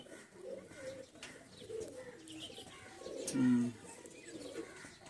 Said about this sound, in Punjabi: ਲਾਲ ਚੀਨਾ ਕਬੂਤਰ ਆ ਵਧੀਆ ਪੱਟ ਸਰ ਕੀਤਾ ਸੀਗਾ